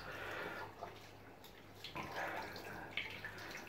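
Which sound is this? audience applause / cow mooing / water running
water running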